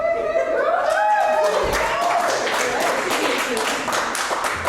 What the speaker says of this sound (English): if I knew I was gonna get some claps, I'll say that at every show